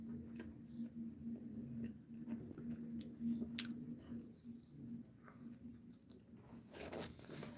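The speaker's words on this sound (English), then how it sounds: "If you're wondering what that chewing sound is," Someone chewing pizza close to the mic, soft wet bites and crunches repeating irregularly over a steady low electrical hum, with no talking.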